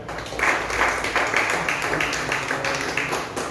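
Audience applause breaks out at a business seminar in Ghaziabad, a dense steady wash of many hands clapping that swells quickly and holds at full strength for a few seconds, filling the hall.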